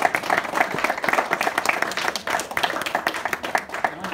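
An audience at a lifetime achievement event gives chef Colin Fassnidge a round of applause, close, loud and continuous clapping with a few sharper individual claps standing out throughout.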